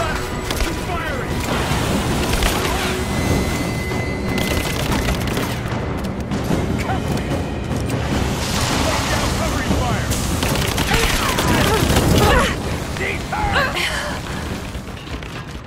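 Loud, dense gunfire in the video game Rise of the Tomb Raider, rapid automatic bursts and booming shots layered over game music and ambience, with voices shouting over the fighting.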